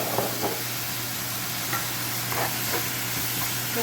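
Minced chicken with garlic, red chili, dark soy sauce and oyster sauce stir-fries in a pan with a steady, close, hissing sizzle, while a spatula scrapes and stirs softly at intervals and no one speaks.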